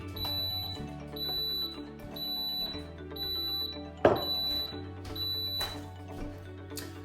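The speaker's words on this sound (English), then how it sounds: "I'm gonna plug in my waffle iron, I'm gonna turn it on, and when that beeps" A series of high electronic beeps repeating at a steady pace from a waffle iron, over a low background hum, with one sharp clunk partway through.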